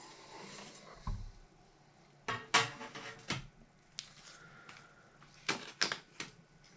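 Plastic clips popped loose from the keyboard of an Amstrad PPC640 portable computer, a series of sharp close clicks and snaps in irregular bursts separated by quiet handling noise.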